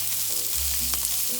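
Vegetables and spices fry in a pan for a black bean and mixed vegetable curry, a brief, steady sizzle heard close up with no voices.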